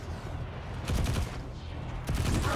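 Rapid SMG fire from Destiny 2 rattles in a dense, continuous burst, loud and close, with a few sharper cracks standing out over the sustained chatter.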